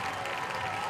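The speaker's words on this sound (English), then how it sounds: "they're standing to applaud, and so they should" Stadium crowd applauding and cheering a second goal at a women's soccer match between NC Courage and Chicago Red Stars, a steady dense roar of clapping filling the short moment.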